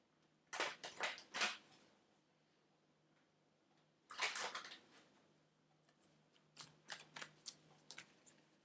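A deck of Magical Mermaids and Unicorns oracle cards is shuffled in quick riffling bursts, three clusters of crisp papery flutters separated by pauses, close and fairly quiet over a low steady hum.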